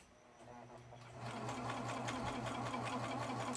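A serger stitches beads into a rolled hem on fabric, its motor starting up and then running fast in a steady, loud, continuous mechanical whir with a rapid rhythmic needle clatter.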